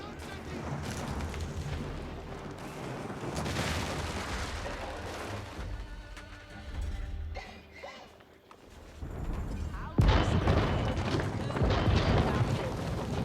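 Bombards firing on a stone keep during an Age of Empires match between Delhi Sultanate and another army, heavy booming blasts and crashing impacts over continuous battle noise, with a loud burst of explosions near the end.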